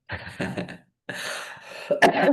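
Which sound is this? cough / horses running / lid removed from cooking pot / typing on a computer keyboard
cough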